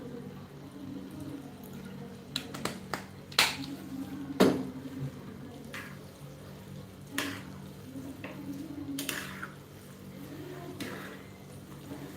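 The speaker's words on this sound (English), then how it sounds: "Then we are going to let it simmer." Pasta in a pan with soy sauce, left to simmer, giving a soft, low sizzle with scattered faint drips and pops and a few sharper clicks.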